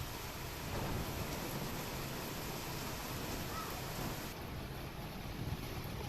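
Heavy rain pouring down in Amreli, a dense, steady, loud roar of rainfall with a deep rumble underneath, continuous throughout with no voices.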